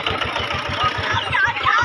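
Raj Sound's own engine powers a sound-system setup for a Chandi puja in a village in Memari, Purba Bardhaman. It runs loud and close with a steady, rhythmic low thumping idle from start to finish.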